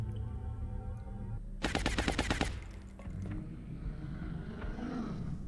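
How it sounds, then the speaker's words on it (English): Rapid automatic gunfire from the XCOM: Long War video game, a loud burst of closely spaced shots lasting about a second over a steady game background hum, followed by quieter rumbling effects. "Probably just more shooting"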